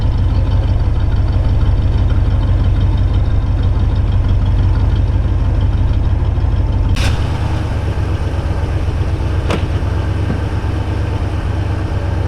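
A 1939 Ford Woody Wagon with a 350 LT-1 V8 and Holley fuel injection idles steadily and quietly nearby, a low constant rumble, with two sharp clicks partway through.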